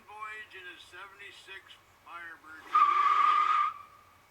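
A 1976 Pontiac Firebird Trans Am on its first drive gives a short, loud tire squeal of about a second, preceded by people talking nearby.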